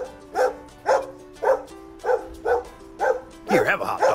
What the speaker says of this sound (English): Yeah, you're the best dog.